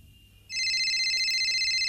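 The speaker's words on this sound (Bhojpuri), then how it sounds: "फोन आवत है भैया।" A telephone ringtone starts abruptly partway in, a loud, steady electronic tone that continues unbroken to the end after a quiet start.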